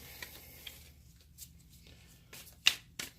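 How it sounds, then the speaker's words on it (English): Soft papery riffles and flicks of cards being shuffled close by, a few quiet taps building to two sharper snaps near the end. "let me get this card shuffled one more time"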